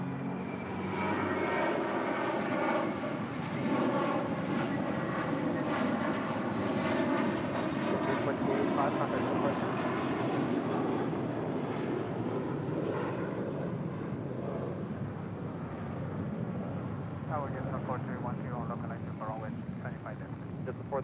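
A United Boeing 757 in California livery at LAX, its jet engines roaring loud and close in a sustained rumble with a rising, wavering whine and tonal bands, while a person talks over it.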